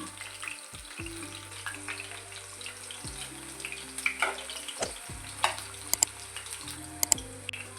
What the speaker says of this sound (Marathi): तर असे खरपूस चांगले तळून घ्यायचं आहे